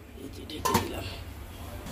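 A metal lid set down onto a cooking pot of meat gives one short clink near the middle, with a faint kitchen hiss around it.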